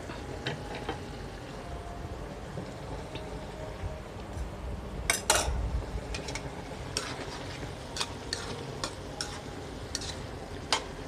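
Minced pork with bamboo shoots and holy basil stir-fried in a pan, with a soft continuous sizzle under scattered sharp scrapes and clicks of the spatula tossing the mixture, one louder clatter near the middle.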